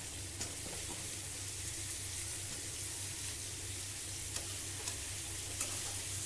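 Spices sizzling and frying in a kadai, with steady hiss and occasional scraping taps of stirring, fairly close and continuous throughout.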